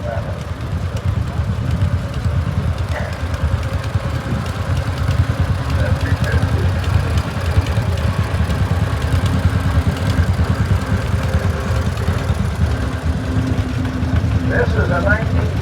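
A 1946 John Deere LA tractor engine runs steadily at a parade, a continuous low throbbing that stays close and loud throughout, with a voice talking over it.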